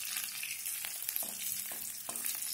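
Onions fry in a pan with a steady bright sizzle and crackle, close and fairly soft, broken by a few scraping stirs.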